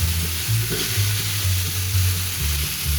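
Chicken fries in a pan with a steady close sizzle and soft stirring scrapes, accompanied by a low droning hum.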